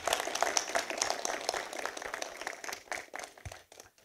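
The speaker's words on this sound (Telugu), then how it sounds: "అందరూ చప్పట్లు కొట్టున్నారు ఒకసారి" An audience at a film trailer launch event claps in a dense, steady round of applause that fades slightly toward the end, heard fairly close.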